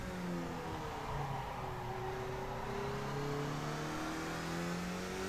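Race car engine in the iRacing sim game droning steadily as it accelerates, with a gradually rising pitch, continuous and fairly close, with no talk.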